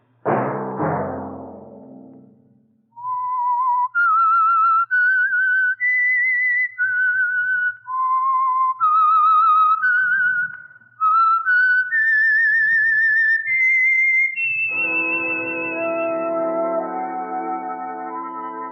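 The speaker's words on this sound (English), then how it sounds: "Let that whistle be your signal" A lone whistled melody of slow, clear notes rises and falls, ending on a long held tone over a soft sustained chord.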